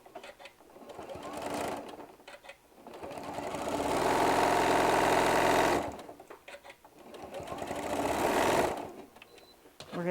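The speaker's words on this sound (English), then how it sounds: "I am going to sew the bottom first." Sewing machine stitching the bottom seam of a fabric bottle bag, starting with a back stitch: two sustained close runs of steady motor whir and needle chatter separated by short pauses with light handling noise.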